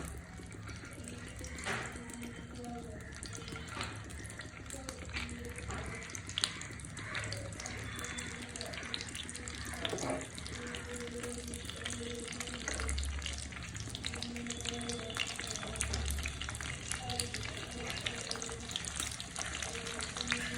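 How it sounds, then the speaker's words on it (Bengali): Green beans fry in hot oil in a pan, giving a steady, continuous sizzle close by with occasional clinks and stirring bumps throughout. "তেলটা গরম হয়ে গেছে। এখন হচ্ছে এই পর্যায়ে আমি পুরগুলা সিমগুলো দিয়ে দিচ্ছি।"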